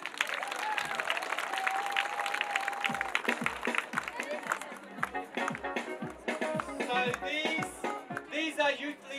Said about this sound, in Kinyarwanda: mubaha amashyi menshi